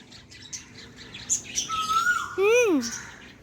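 A koel calls nearby with clear whistled, upward-sliding notes, the loudest a strong swooping call near the end, over a faint background with other small chirps and a few quiet voices.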